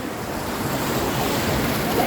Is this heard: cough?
no